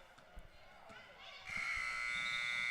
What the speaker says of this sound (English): And there's the buzzer, end of the first.